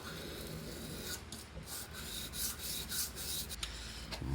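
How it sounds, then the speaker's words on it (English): A hand file rasps over the handle or bolster of a custom dagger to deburr it, giving a series of short, close scraping strokes of uneven rhythm. "So a quick deburr."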